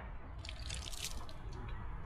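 Shower water drips and trickles steadily onto a hard surface at a beach shower area, faint and continuous with a light splashing texture.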